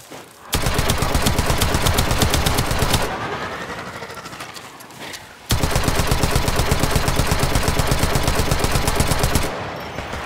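Automatic gunfire in the video game Warframe, two long, loud, rapid bursts of evenly spaced shots separated by a brief lull of rumbling ambience.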